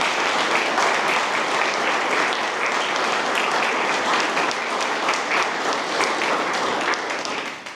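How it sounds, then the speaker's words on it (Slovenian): An audience at a Ljubljana memorial ceremony for road traffic victims applauds steadily and loudly for several seconds. The clapping is dense and sustained, then tapers slightly at the end. "Aplavz, Lev Glumac."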